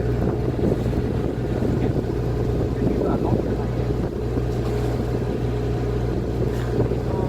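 Strong wind at sea aboard a fishing boat, a constant loud rumbling buffet of wind against the microphone over a low engine drone, with people talking faintly underneath.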